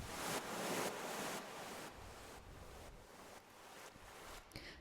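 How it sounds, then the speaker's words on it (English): Sampled ocean waves crashing in and out in an electronic music track, a steady broad wash of surf that swells and recedes in soft, repeated surges, alone with no voices. "I've got some ocean samples to create some dynamic movement that sounds of waves crashing in and out."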